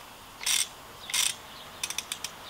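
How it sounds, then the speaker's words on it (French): A ratchet wrench tightens a spring compressor on the front strut of a Renault Koleos, giving two short runs of ratcheting followed by a quick series of crisp single clicks, close and fairly quiet. "avec une clé à cliquet, alors il t'en faut deux, hein, tu pourras l'insérer dans la partie femelle, et puis tu pourras serrer tranquillement"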